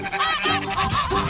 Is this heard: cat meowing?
no